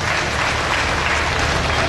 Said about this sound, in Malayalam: കൈയടിച്ച് നമ്മുടെ സന്തോഷം നൽകുന്നു